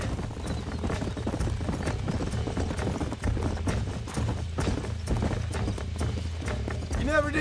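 Horse hooves clip-clop steadily in the Western video game Red Dead Redemption, a continuous rhythmic clatter layered under music and ambient game sound, with a horse whinnying briefly near the end.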